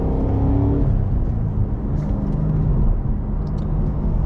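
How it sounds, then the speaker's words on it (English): A Cadillac CT5-V Blackwing sedan's engine roars loud and close, with rev-matching blips on downshifts over a continuous rumbling drone. "my favorite part for sure is just using that rev matching and just hearing that engine roar"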